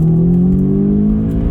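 A car accelerates hard, heard from inside as a loud, steady engine drone whose pitch climbs smoothly through the pull.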